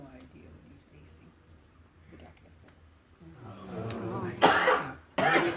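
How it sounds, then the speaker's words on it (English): An audience at an outdoor press gathering coughs and clears throats before a short question-and-answer session, with scattered coughs early on and a cluster of loud, close coughs near the end, mixed with murmuring voices. "Get your coughs out now."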